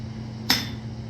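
A single sharp metallic strike of a blacksmith's hammer on an anvil, bright ringing clank with a short decay over a low steady hum.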